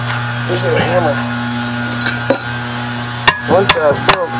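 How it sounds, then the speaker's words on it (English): A hammer strikes metal several times with sharp, ringing clanks while working on a 1998 Honda Goldwing GL1500 SE motorcycle, near and loud over a constant hum, with someone talking between the blows. "This is a hammer."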